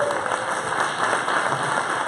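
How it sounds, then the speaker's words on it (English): An audience at a design-thinking talk gives a short burst of steady applause, a continuous rattle of many hands over a faint background hum. "let's give him a warm applause"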